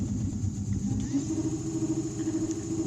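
An electric motor, one of two driven by a single throttle grip, accelerating at full throttle. A steady low hum rises into a sustained mid-pitched drone with a faint high whine, moderately quiet throughout.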